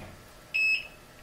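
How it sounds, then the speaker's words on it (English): A single short, high electronic calibration beep from a Rosewill REGD-6361 stud, metal and voltage detector, clear against quiet room background. "Okay, did the second beep. It's all calibrated."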